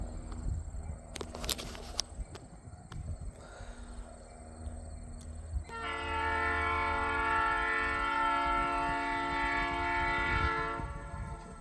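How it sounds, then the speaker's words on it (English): A train passes at Gettysburg, with a distant rumble and clanks first, then a long, loud, sustained horn blast from about six seconds that holds steady to near the end, with no talking. "Guess the train's going"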